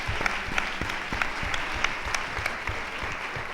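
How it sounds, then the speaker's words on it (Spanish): A lecture audience applauds a woman who has just spoken, a steady patter of many hands with some sharper individual claps, fairly quiet and heard alone for a few seconds. "Un aplauso para la señora."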